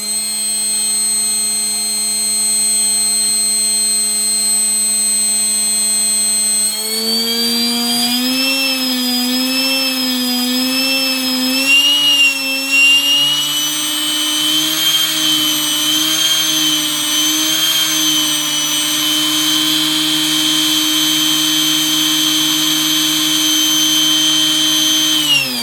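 Electric RC helicopter motor spooling up under governor setup, starting with a steady high electric whine, then rising in pitch, wavering and surging before settling into a loud sustained whir, close and alone.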